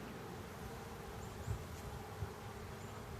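Honey bees hum steadily in an open hive full of capped brood, a soft continuous buzz with a couple of slightly louder low thumps partway through.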